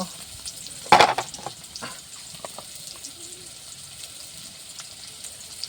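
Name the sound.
spices and curry being sautéed in a pan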